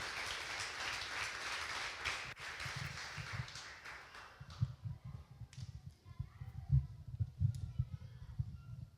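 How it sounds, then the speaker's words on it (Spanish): A church congregation at an evangelical service applauds with a dense, fairly loud patter of clapping that fades after a few seconds, leaving scattered quieter claps and room sounds. "Denle un aplauso a nuestro Señor y Salvador Jesucristo."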